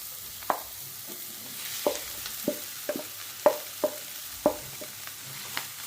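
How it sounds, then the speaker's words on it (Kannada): A spoon stirs fried mashed potatoes with masala in a pan, giving a series of soft scraping taps about every half second over a faint sizzle, with no talking. "ಚೆಂದಾಗಿ ಮಿಕ್ಸ್ ಮಾಡ್ಕೊಳ್ರಿ ಎಲ್ಲ ಮಸಾಲ ಕಲಿಯೋಂಗೆ"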